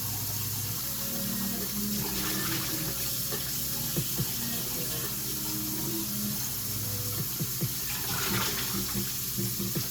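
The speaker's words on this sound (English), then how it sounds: "I rinse the pot out a couple times with cold water too" Steady cold tap water splashes into a pot as it is rinsed, a continuous rushing wash with faint clinks, fairly close and without talk.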